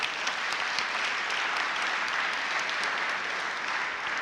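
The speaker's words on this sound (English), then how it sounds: "a round of applause for this panel" Audience applause for a panel at a business forum, dense steady clapping from a full room that carries through about four seconds with no talk over it.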